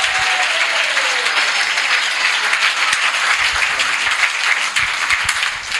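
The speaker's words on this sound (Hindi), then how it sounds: "और फिर मस्त तालियां बजा के और फिर प्रभु को महिमा दें।" A church congregation applauds at a Thursday live service with Pastor Soni, dense, steady clapping filling the whole stretch loud and close, with no pause.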